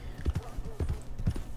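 Horse hooves clip-clopping in a steady rhythm on a town street in Red Dead Redemption 2, several close, fairly loud hoofbeats in a short run.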